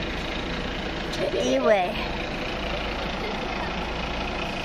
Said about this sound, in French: notre moteur est en route, il dégage toutes les fumées là